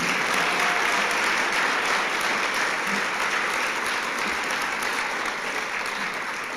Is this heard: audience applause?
yes